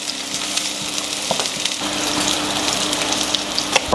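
Eggplant frying in a hot pan, a loud, continuous, hissing sizzle that holds steady throughout with a few faint pops and stirs.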